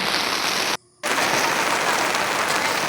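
Steady, dense rain pouring down close by, a continuous hiss that cuts out briefly for a moment before resuming just as heavily.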